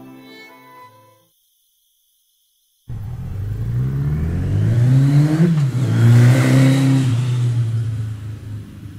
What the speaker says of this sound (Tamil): வண்டி வருது, லிஃப்ட் கேட்கலாம் சார்.